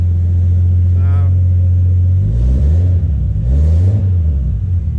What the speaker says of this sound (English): No throttle pressed as you start it, just fires up first tip.